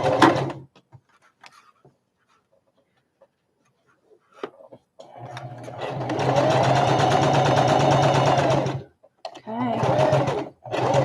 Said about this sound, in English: Come back a ways and do a forward and back, and it'll lock that stitching in.